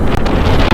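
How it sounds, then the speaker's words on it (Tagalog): Strong wind buffeting the microphone on a motorcycle ride in cold December weather, a loud continuous roaring rumble with no other sounds standing out. "Lakas ng hangin, ang lamig pa."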